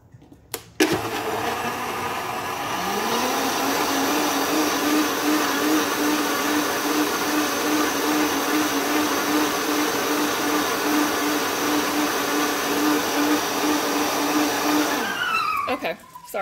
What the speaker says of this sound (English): So now, let me put my blender on.